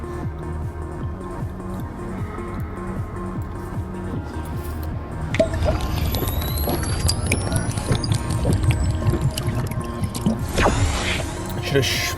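Fairlife protein shake gulped straight from the bottle, two bottles in a row, with wet swallowing and liquid sloshing close up, steady drinking sounds building after the first few seconds.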